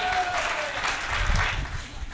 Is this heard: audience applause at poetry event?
yes